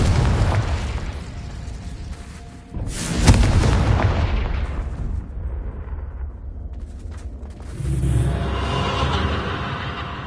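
The Confringo explosive spell in the video game Hogwarts Legacy sets off a loud, booming blast with a rumbling tail, then a second burst of crackling noise, all against dense game ambience.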